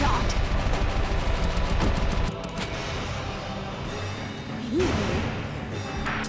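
Enemy rifle gunfire in the video game Valkyria Chronicles: a dense, loud burst of rapid shots for about two seconds, then a quieter rumbling battlefield background with a stray thump near the end.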